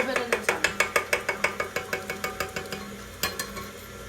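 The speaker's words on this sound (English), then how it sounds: "Just turn on your mixer, like maybe on 2 speed-ish." An electric stand mixer runs at low speed, its beater knocking in a steady, even clatter of about six ticks per second over a faint hum, close and loud, with no talk.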